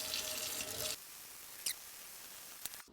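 Water runs from a sink tap onto a small scrub brush with dish soap, a steady hissy stream that cuts off about a second in, followed by a few faint drips and taps.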